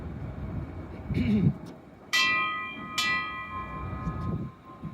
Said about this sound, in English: The toll of the ship's bell.